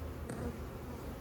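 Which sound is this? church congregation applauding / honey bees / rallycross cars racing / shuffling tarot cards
honey bees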